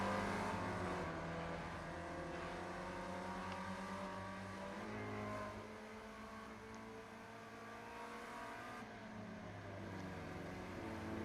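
Race cars lapping Oulton Park Island circuit in an iRacing Spec Racer Ford event, a continuous loud engine drone with shifting pitch as the cars rev and change gear, dipping slightly partway through.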